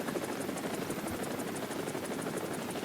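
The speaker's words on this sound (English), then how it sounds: "There's so many helicopters." Continuous rotor beat of a helicopter flying in the War Thunder video game, steady and fairly faint with no talking over it.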